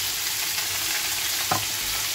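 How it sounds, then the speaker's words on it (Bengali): Paneer cubes fry in hot oil in a home kitchen pan, giving a steady, close sizzle with a brief sharper scrape or crackle burst partway through. "ওইদিকে তো পনিরটা ভাজা হচ্ছে"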